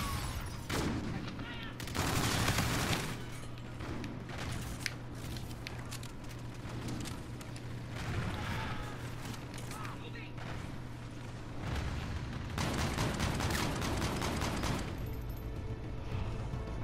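Assault rifle gunfire in the Call of Duty: Infinite Warfare beta, with bursts of rapid shots and booms recurring across the stretch over steady game background noise and some speech.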